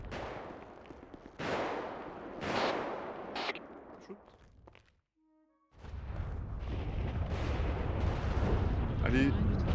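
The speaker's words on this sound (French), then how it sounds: "il y a des coups de feu hein" Gunfire in a video game rings out as a series of loud broadband bursts, with a brief quiet gap mid-clip followed by sustained noisy clatter, and no voices.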